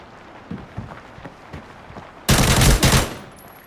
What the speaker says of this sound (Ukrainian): Хтось стріляв просто.